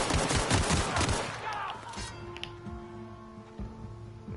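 Gunfire in The Outer Worlds, a burst of rapid shots packed into the first two seconds, then fading to a low hum with a few faint later pops.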